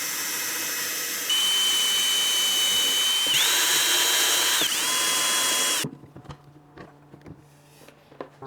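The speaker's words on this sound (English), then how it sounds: "I'm going to use this self-centering drill bit." A power drill fitted with a self-centering bit runs loud and steady for several seconds, its pitch shifting under load during a router lift install, then stops, followed by light clicks and handling noises.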